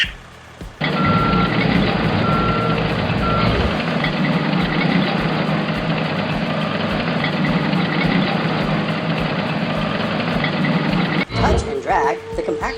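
A compactor garbage truck in a video game backs up, a few spaced reversing beeps sounding over a loud, steady engine rumble that cuts off near the end.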